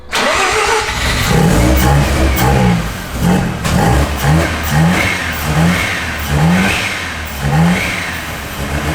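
A JDM car's oil-injected engine revs repeatedly in a rhythmic series of loud, close throttle blips over a steady idling rumble, with no one talking.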